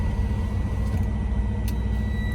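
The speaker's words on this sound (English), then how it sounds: "start the truck up," Semi truck engine idling steadily just after start-up, a loud low rumble with a faint high whine and a brief click partway through.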